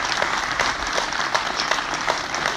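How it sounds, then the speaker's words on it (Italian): An audience at a celebration event in Sorrento gives loud, dense, sustained applause that fills the whole stretch. "Le inviamo un fortissimo applauso"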